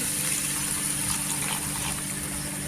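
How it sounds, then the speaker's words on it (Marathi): Milk poured from a cup into mashed ripe papaya for papaya barfi makes a steady, close liquid gush that carries evenly through the short stretch without any voices. "इथे मी 1 कप दूध ओतते।"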